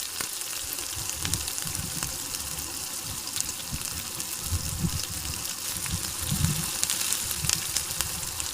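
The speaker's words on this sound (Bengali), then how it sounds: "ডিমটা ঝুরি করে ভেজে নেওয়ার পর তাতে ভেজে রাখা চিকেনের পিসগুলো দিয়ে আরও 2 মিনিট ভালো করে ভেজে নিয়েছি" Chicken pieces frying together with scrambled egg in a pan give a steady, soft sizzle with faint crackles throughout.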